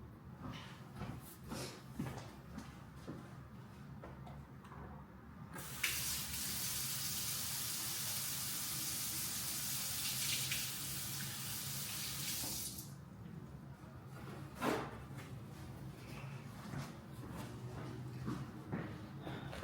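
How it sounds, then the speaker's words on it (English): Hands washed under a running tap, the water switching on abruptly and pouring as a steady bright hiss for about seven seconds before cutting off, set against quiet room noise with faint handling sounds. "let me wash my hands."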